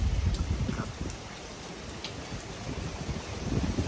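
Rain falls steadily in Bangkok, a dense, even patter with low drumming on surfaces and a few louder drops, continuous and fairly close, with no voices.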